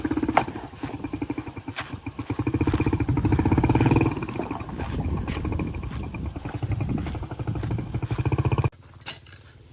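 A faulty motorcycle engine runs roughly on a troubled trip from Guinea to Guinea-Bissau. It makes a close, uneven, sputtering putter for several seconds, then cuts out abruptly near the end, leaving a brief clink.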